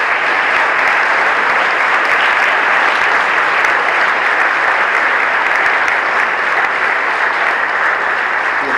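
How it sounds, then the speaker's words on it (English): Steady, loud applause from an audience at a Hall of Fame induction ceremony, a dense unbroken wash of clapping that holds evenly for the full stretch with no voices over it. "And give these guys a round of applause."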